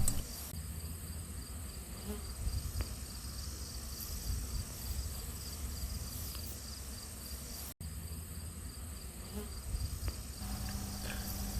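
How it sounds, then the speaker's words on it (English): Honey bee swarm buzzing steadily as it flows into a hive box outdoors, a continuous dense hum of many wings with individual bees passing close now and then, no talking. "it looks like a wave of bees just flowing into the box"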